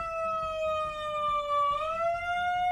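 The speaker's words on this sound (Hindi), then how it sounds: "अब वो एक सायरन ले आया, लेकिन ये उसको दिया किसने?" A loud wailing siren holds a steady tone, then dips and rises again, continuous and close throughout.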